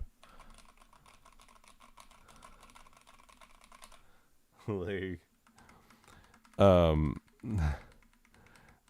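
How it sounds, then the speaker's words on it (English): Fast, light clicking of mechanical keyboard keys typed in a quiet room, with a few brief spoken words breaking in near the end. "hey, listen to the ASMR of my keyboard"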